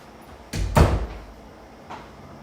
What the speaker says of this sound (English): I'm gonna close the door real quick.